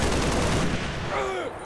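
Rifle gunfire in Halo Reach combat, a short dense burst of rapid shots at moderate loudness, fading near the end with a faint tonal whine.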